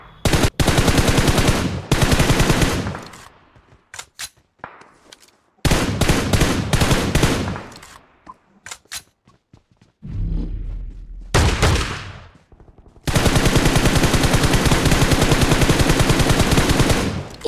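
Bursts of machine gun fire in the battle royale game BGMI, loud rapid volleys separated by short pauses, with a few single shots and one muffled low thud between the long streams.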